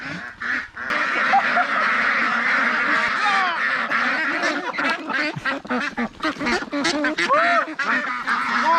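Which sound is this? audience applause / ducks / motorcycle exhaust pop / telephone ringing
ducks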